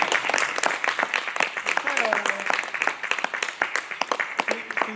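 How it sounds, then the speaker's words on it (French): An audience claps, a dense, steady round of applause that holds for several seconds with a few voices underneath. "Si vous voulez applaudir, c'est quand même..."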